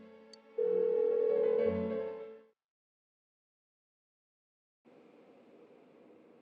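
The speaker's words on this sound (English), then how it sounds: "The ringing's annoying." A telephone rings in the Persona 4 Golden video game, a loud sustained electronic tone for about two seconds that cuts off into silence, then a quieter buzzing hum returns.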